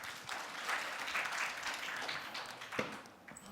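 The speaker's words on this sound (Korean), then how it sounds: "큰 박수 부탁드리겠습니다" An audience at a startup pitch competition final round claps to welcome a presenter, producing a moderate, lively ripple of applause that eases off toward the end.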